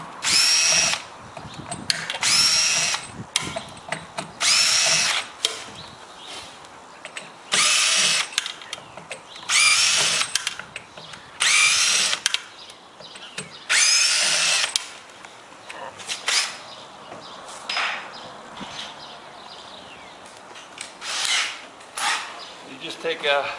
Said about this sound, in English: So we're going to have to drill that one out.